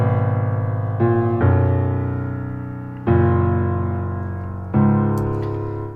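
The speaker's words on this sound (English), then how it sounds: "So the chords I was able to hear in that song" Sustained keyboard chords from a remix of a song, struck four times at about 1, 1.4, 3 and 4.7 seconds, each ringing out full and loud before the next change, with no voice.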